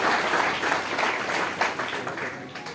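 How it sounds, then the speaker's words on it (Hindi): Audience applause welcoming a politician at a BJP event where prominent personalities join in the presence of State President Adesh Gupta, a dense steady clatter of many hands throughout, loud and close. "एक बार जोरदार ताली बजा करके अभिनंदन करें।"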